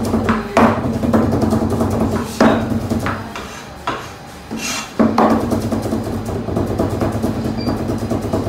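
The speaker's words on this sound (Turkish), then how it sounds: "Bu şekilde küçük küçük doğruyoruz." Knife chopping red capia peppers and garlic small on a cutting board, a run of sharp close taps with a few heavier knocks and short pauses, no voices.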